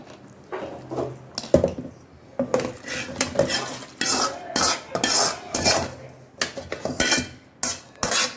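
Repeated scraping and clinking of a metal spoon against a pressure cooker as sambar rice is stirred, in irregular bursts at close range.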